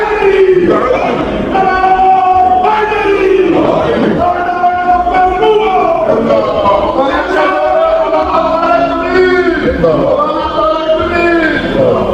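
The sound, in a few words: crowd chanting slogans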